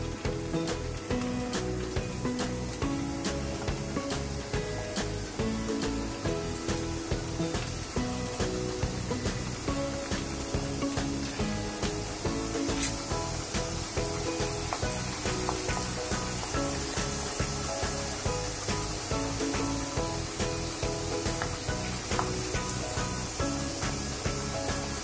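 Pumpkin puris frying in oil over a low flame, a steady dense sizzle with constant crackling pops running throughout, close and even in loudness.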